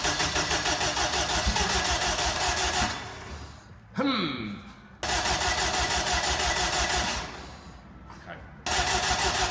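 A Honda K20 engine swapped into a Toyota MR2, with no throttle position sensor fitted, cranks in repeated bursts, a loud mechanical churning broken by short pauses, with a brief spoken word between attempts.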